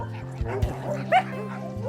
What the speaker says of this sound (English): This is Frau Krupp and her dog, Poopsie.